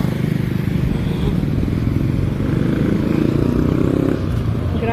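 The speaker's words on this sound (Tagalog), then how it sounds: "Tatay, nagto-tricycle si tatay." Motorized tricycle passing on a highway near a market, a loud rumbling engine with clattering, droning steadily for several seconds before easing slightly at the end.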